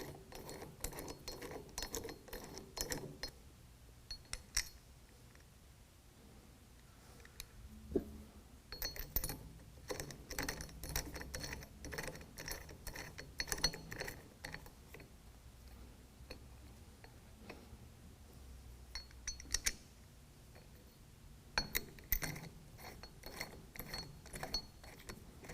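Ratchet with a 17 mm socket seating a bolt on a 2021 Ford F-150 during a leveling kit install, giving bursts of quick clicking spread across the clip with quiet gaps between, close and moderately loud.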